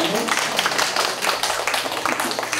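A congregation at a Korean church pastors' couples summer retreat claps together, dense overlapping hand claps in a steady stream, with voices faintly under the clapping.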